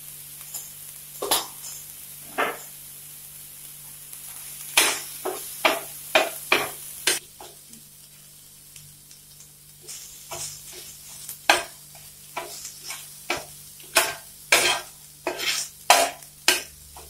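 Spices with turmeric being sautéed in a pan, a quiet low sizzle under repeated sharp scraping and stirring knocks of a spoon against the pan, irregular and close.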